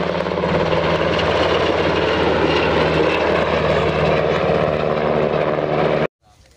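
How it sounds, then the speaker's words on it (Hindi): Loud, steady rotor and engine roar of a helicopter flying close overhead during a village panchayat election, sustained for about six seconds, then cutting off abruptly into near silence. "आगे वसीम प्रधान जी हेलीकॉप्टर में"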